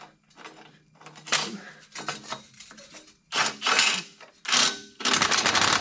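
Metal scraping, rasping and clinking come from tightening exhaust crossover pipe flange bolts on a Ford F350 pickup, with intermittent bursts of wrench and bolt noise separated by short pauses.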